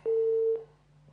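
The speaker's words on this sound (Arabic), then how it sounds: "فصل الاتصال" A single telephone busy tone sounds after a call disconnects, one clean steady beep about half a second long followed by a quiet line hum.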